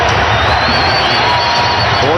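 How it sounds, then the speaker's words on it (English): An NBA pre-season basketball crowd in New Orleans cheers loudly for the Hornets, a dense, sustained roar filling the arena for a couple of seconds. "the New Orleans Hornets have not heard cheering like this in a long time"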